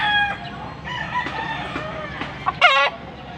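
Chickens cluck and squawk in a busy Saturday chicken market in Pampanga, close and overlapping, before a rooster lets out a loud, clear crow near the end.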